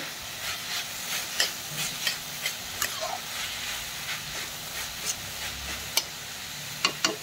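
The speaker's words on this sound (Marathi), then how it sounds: "बारीक चिरून घेतलेला फ्लावर आपण टाकतोय। तोही परतून घ्यायचा आहे।" Finely chopped cauliflower sautéing in a pan for pav bhaji: a steady close sizzle and hiss with light scraping stirs and occasional utensil taps, no talking.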